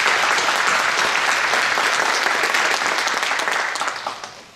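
Audience applause at a public candidates' debate for a House of Representatives election in Hiroshima's 4th district, dense steady clapping from a large room that holds strong for several seconds before gradually fading out at the end.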